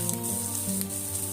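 Food sizzles steadily in a hot pan while a potato paratha filling is roasted before turmeric goes in, a continuous close hiss with no voices.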